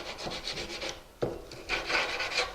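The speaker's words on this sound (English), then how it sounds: "take your sandpaper, get the rough burrs off" Sandpaper rubbing rough burrs off a wooden window jamb extension, a soft raspy scratching in short strokes with one sharper scrape midway, close and quiet, no voices.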